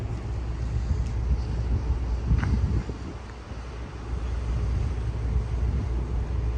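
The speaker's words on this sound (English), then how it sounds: "where it is cold, windy, and rainy." Gusty wind on the deck of the cruise ship Brilliance of the Seas in cold, rainy Juneau, Alaska buffets the microphone with a low, rumbling roar that rises and dips, with a faint mechanical hum beneath.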